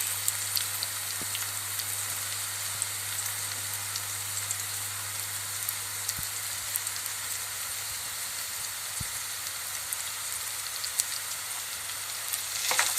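Sucuk sausage slices frying with peppers in a pan give off a steady, even sizzle and crackle throughout, with a constant low hum underneath and a few faint scrapes near the end.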